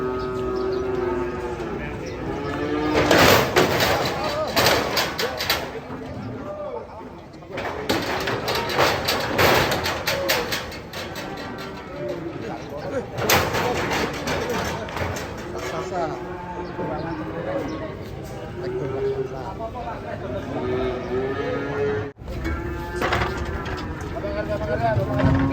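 Cattle moo loudly and repeatedly while being unloaded from a truck. The long, drawn-out calls come close, with people talking and shouting throughout and occasional knocks from the vehicle.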